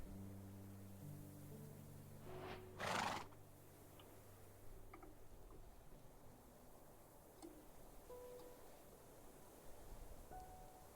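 A video game horse in a Minecraft modpack, called by a horse flute, gives a single short whinny against faint background noise, followed by quiet ticks and rustles.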